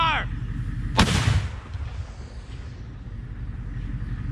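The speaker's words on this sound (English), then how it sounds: "Today we are in a training event with the 120mm towed mortar system." A 120mm towed mortar fires a single loud, sharp blast with a rolling rumble that trails off over the next second, heard during a National Guard training event amid steady outdoor background noise.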